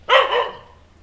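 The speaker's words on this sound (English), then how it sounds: "The dog next door's just realised I'm here." A neighbour's dog next door lets out a single sharp, loud bark that quickly fades into a quiet outdoor backdrop.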